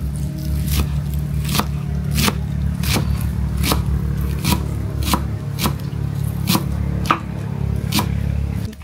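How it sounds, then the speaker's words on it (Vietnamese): Knife chopping shallots on a cutting board, about a dozen sharp, evenly spaced thuds over a steady low hum in a home kitchen while chicken porridge cooks. "Giờ mẹ con sắc hành luôn."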